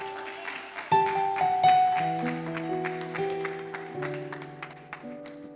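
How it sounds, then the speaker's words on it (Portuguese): Church congregation applauding, steady rapid clapping mixed with sustained organ or keyboard chords and music, moderately loud and continuous throughout. "aplauso ao nosso Deus."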